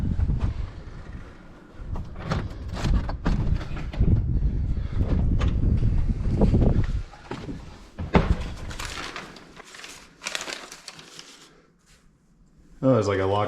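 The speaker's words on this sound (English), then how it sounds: "Breezy." Gusty wind buffeting the microphone on a ladder along the Lolo Motorway, rumbling in loud bursts and dropping away between gusts, with people talking.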